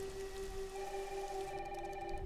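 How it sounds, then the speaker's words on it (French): Heavy rain in the video game Resident Evil Requiem, a steady broadband hiss throughout with a sustained tonal music drone over it. "il pleut vraiment des cordes."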